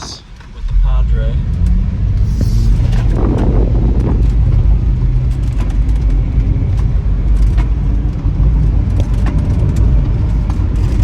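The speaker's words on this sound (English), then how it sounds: "We are headed out in reverse right now in the Prius" Toyota Prius in motion, a steady low road rumble with wind buffeting throughout, and a voice talking over it.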